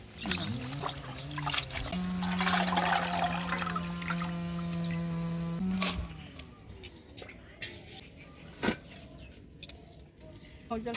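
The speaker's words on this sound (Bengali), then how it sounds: "এক এক করে সব শাকগুলো ভালো করে ধুয়ে নেবো" Leafy greens such as drumstick leaves and Malabar spinach being washed in water for village-style fritters, trickling and splashing water with a steady tone in the middle, under a woman's speech.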